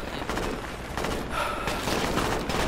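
Rapid gunfire in the tactical military shooter Project Reality, a dense, continuous rattle of shots close by, filling the whole stretch at a steady loud level with no voices.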